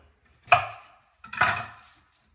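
A kitchen knife chops through an onion on a cutting board, cutting it into julienne sticks: two distinct crunchy cuts about a second apart, close and fairly loud, with no talking.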